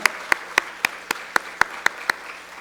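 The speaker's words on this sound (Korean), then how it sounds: "우리 김다솔 청년 다시 한번 박수로 축복합니다." Hands clap at a church worship service in Gunpo in 2020, about nine sharp, evenly spaced claps in a steady rhythm, close and distinct, with no voices.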